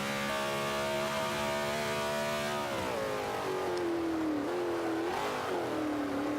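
Z06 Corvette racing in Forza 5, a loud buzzing engine note that holds, dips as the car lifts, then rises and wavers again through the corner, with no speech.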